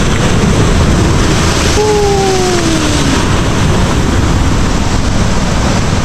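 Ocean surf at sea off Palawan during night fishing makes a loud, constant roar of big waves close by, with a brief engine drone rising and falling midway.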